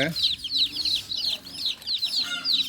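Chickens cluck in quick repeated bursts, close by, with faint low murmuring of voices underneath.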